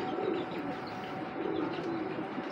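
A racing pigeon coos in low, soft repeated phrases close by, the cooing rising and falling over a faint, steady background hiss.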